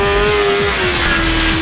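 A 2009 Kawasaki ZX-10R sportbike engine on a race track, holding a loud, steady high-revving note with a strong, even buzz throughout.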